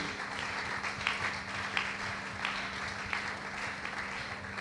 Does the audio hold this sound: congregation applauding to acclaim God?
yes